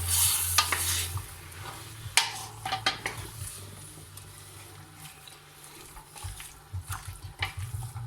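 White wine with a clove-studded onion is stirred in a pot for a beef and carrot stew, a soft bubbling sizzle under scattered spoon scrapes and light clinks against the pot, with no talking.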